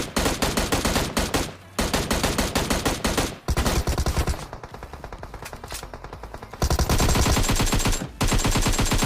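Automatic weapons fire in the battle royale game PUBG, rapid loud bursts of gunshots in quick rhythmic strings with short pauses between volleys, dense and close throughout.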